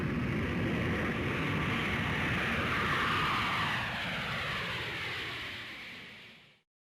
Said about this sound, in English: An aeroplane taking off are all loud sounds.